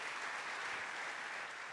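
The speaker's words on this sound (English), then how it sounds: "Another round of applause for Noai." A crowd claps steadily and evenly, a dense wash of applause with no pauses.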